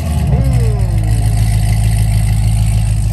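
A Shelby GT350 engine catches with a rising whir, then settles into a loud, deep, steady idle rumble, with people talking nearby.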